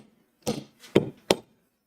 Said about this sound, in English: I like to stamp them hard